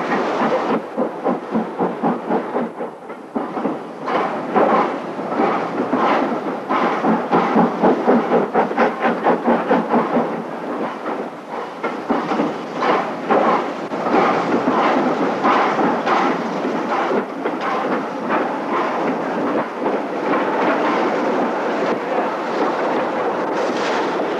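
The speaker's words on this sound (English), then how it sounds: "There it goes, and the train pulls into Yeovil town station." A British Railways steam train from 1962 pulling into Yeovil Town station, with rhythmic chuffing exhaust beats and rumbling wheels, loud and close, holding steady throughout with no talk.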